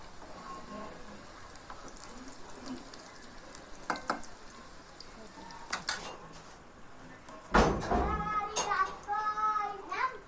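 Egg samosas frying on low heat in oil give a soft steady sizzle, then a sharp clatter and louder bubbling burst as they are flipped over, close by and moderately quiet.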